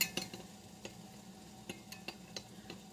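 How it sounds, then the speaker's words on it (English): A spoon stirs honey into a melted homemade lip balm mixture in a small container, faint scraping with several light clinks of metal against the vessel, close and quiet with no talk. "I think that honey is just sitting on the bottom, so I'm going to stir that in"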